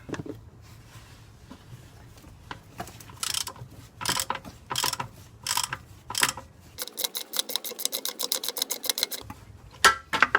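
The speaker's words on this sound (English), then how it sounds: "hopefully I can just do this with my 18mm socket wrench here." An 18mm socket wrench ratchets on a bolt during a transmission mount job on a Jeep ZJ with a 5.2L engine. Bursts of quick, close clicking come in short pulls, then a longer run of steady ratcheting.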